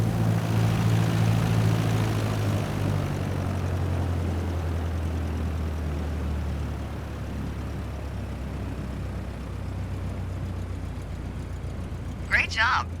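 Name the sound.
airplane landing and braking on runway, from video game Microsoft Flight Simulator 2020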